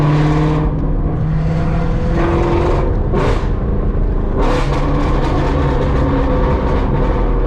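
Ford GT350 with catless midpipes and exhaust valves open, a loud close-up V8 roar that revs up sharply twice with rising pitch sweeps between steady rumbling idle-like stretches.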